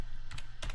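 Short burst of typing on a computer keyboard, a couple of quiet close clicks with a brief pause between, heard alone.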